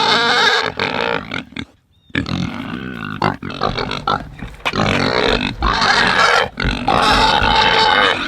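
Pigs on a farm grunt and oink loudly and close up in a rapid, uneven series of snorts and guttural bursts, broken by one brief pause.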